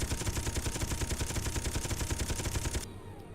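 Rapid automatic gunfire in the video game Space Engineers, shooting at large ship blocks, a dense continuous stream of shots that cuts off abruptly near the end.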